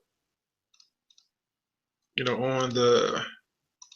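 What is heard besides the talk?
computer mouse clicking on text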